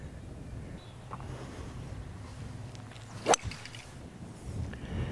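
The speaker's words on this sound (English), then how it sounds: "Windy hole, man." Wind blowing across an open private golf course in Kansas City, a steady rushing buffet on the microphone with one brief sharp knock partway through and no voices.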